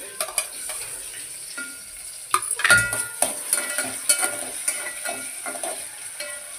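Onion and tomato sizzling in a frying pan while a spoon stirs and scrapes, the frying hiss steady underneath with irregular clinks and scrapes, close-up and without talk.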